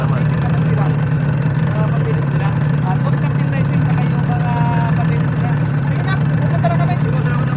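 Patrol boat engine idling at sea, a steady low droning hum that stays constant and fairly loud throughout, with faint voices in the background.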